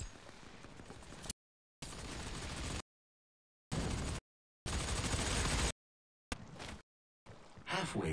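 Rocket and pulse rifle fire in the Doom beta game come as bursts of dense, loud blasts separated by abrupt dead silences, with a choppy stop-start rhythm.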